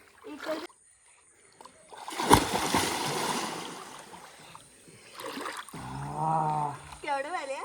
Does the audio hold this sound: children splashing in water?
yes